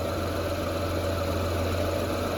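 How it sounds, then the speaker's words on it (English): A Honda Ridgeline engine idles steadily during a power steering pressure line replacement, a constant low hum and drone heard close and at an even level throughout, with no speech. "We got the engine running."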